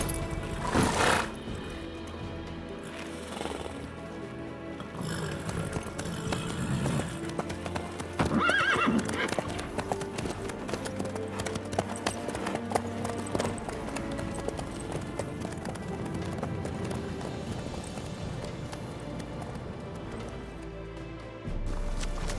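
Horse hooves clip-clopping steadily in The Witcher 3, with neighs and whinnies over a busy background of game music and ambience, loud and close.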